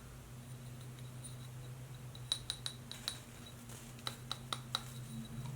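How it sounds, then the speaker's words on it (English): A souvenir shot glass from Pensacola Beach, Florida is tapped and clinked in a quiet room, giving two brief bursts of sharp, light chinks, each about four or five quick ticks, close and fairly soft. "Pile 1, you have this Pensacola Beach, Florida shot glass."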